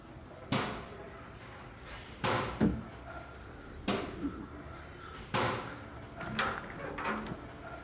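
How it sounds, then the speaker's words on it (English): A hand bangs on the back of an open apartment door, several sharp separate knocks spaced a second or so apart, fairly close, with faint room noise between them. "we can see a hand banging the back of the open door"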